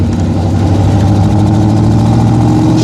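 A 1965 Shelby Cobra 427 replica idles with a loud, close, deep rumble, its steady lumpy pulse throbbing evenly throughout with no voices over it.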